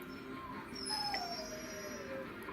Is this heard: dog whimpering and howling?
yes